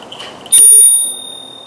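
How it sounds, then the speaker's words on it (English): A bicycle bell on a Himiway Cruiser e-bike gives a single bright ring that starts loud and fades over about a second, following a moment of quiet background noise. "There's the bell."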